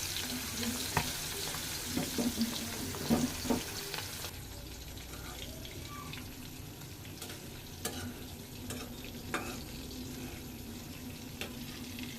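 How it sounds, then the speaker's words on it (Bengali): Steady sizzling of hilsa fish frying in hot oil in a wok, continuous and close, with occasional clinks and scrapes from a utensil in the pan. "ইলিশ মাছ ভাজাটা বসাই দিব, তেল দিয়ে দিলাম কড়াইয়ে"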